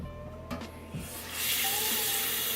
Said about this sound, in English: So I just put a little bit of water